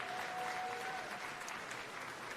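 Audience applause at the 2023 Mid-America Emmys awards ceremony, a steady, dense wash of clapping that holds throughout without talk.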